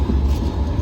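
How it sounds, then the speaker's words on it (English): A Sydney light rail train rolls past in a city street, a loud, close, continuous low rumble and hiss over the brief moment. "Okay, that's our train."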